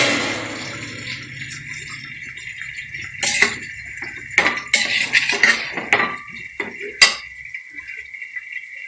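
Chicken mandi is stirred in a pot after the lid comes off, with a low background hum broken by several loud metallic clanks and scrapes of a spoon against the pot.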